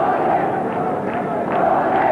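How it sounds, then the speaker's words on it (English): Dense, steady roar of a cricket stadium crowd at Sharjah during a Pakistan v New Zealand one-day match, with chanting swells rising and falling throughout, loud and continuous, with a commentator's voice over it. "As you can hear, the crowd in tremendous form"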